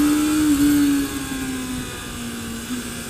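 A Suzuki Bandit 250cc motorcycle engine holding a high, steady buzzing whine, loud and close, easing slightly in pitch partway through, with no talk over it.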